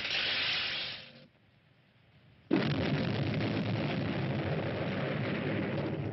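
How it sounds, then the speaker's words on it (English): A strong explosion in a 1977 sci-fi film bursts in as a loud broad roar, drops away into a brief quiet gap, then slams back into a sustained rushing blast that carries on steadily to the end. "Nicola's base communicates a strong explosion in the sector HF203"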